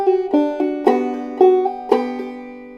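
Guitar plays the opening hook of a tune: a short run of clearly plucked notes, about five or six picked attacks ringing close and clean, with no voices.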